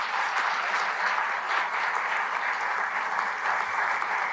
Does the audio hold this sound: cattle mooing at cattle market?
no